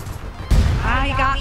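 Gunfire in the online shooter APB Reloaded, a loud burst of shots starting abruptly midway and continuing with rapid reports, with voices talking over it.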